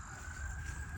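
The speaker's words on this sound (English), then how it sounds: "Sirens in the traffic sounds really take you out of it too, don't they?" Sirens sound through city traffic, a steady high wailing tone over a low rumble of vehicles, moderately distant and fairly faint, with no talk over it.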